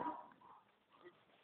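A small puppy gives soft, thin whimpers and faint yips, close by and quiet, in short broken bursts.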